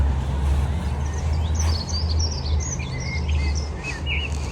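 A small bird in a UK allotment garden, hunting for seeds in the soil among netted plants, gives repeated high chirps and short tweets over a steady low rumble of background noise.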